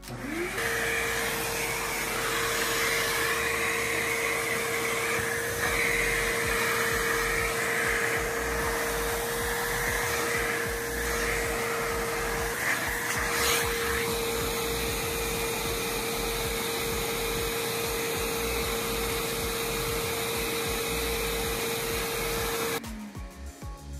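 A Green Machine upholstery cleaner works over the underside of a fursuit head, its loud, steady motor whine and suction roar running continuously with a shift in tone partway, then cutting off near the end.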